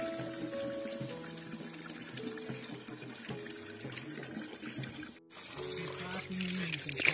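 Water runs from a very old tap in an Uttarakhand hill village, a steady close gush with a slight hiss that continues throughout, while a person talks over it.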